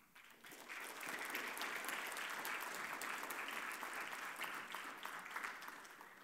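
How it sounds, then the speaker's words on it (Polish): An audience at a thank-you ceremony on stage applauds steadily, with sustained clapping that swells quickly, holds for several seconds and then tapers slightly. "Ogromne brawa."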